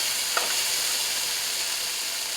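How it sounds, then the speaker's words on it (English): Okra and tomatoes sizzle steadily in a hot pan as they are stirred, a constant close frying hiss with a faint scrape from the stirring. "So we're going to stir this for a few seconds."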